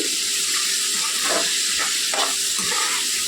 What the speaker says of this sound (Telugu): నీళ్ళన్నీ ఇంకిపోయే వరకు ఇలా వేసుకోవాలండి ముక్కలు, నూనె బయటికి తేలే వరకు